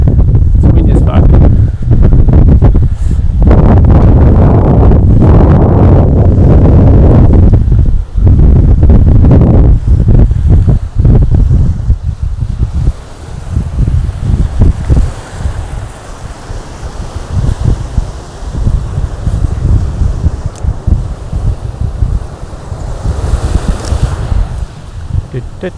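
Strong wind buffets the microphone at sea off the Mentawai Islands on a rainy day, a loud, continuous roar with gusts, mixed with surf and choppy water, easing somewhat after the first half.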